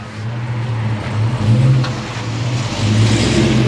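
A Dodge Scat Pack with a 392 Hemi V8 revs, a loud close engine drone that rises and falls in a few swells, with no talking.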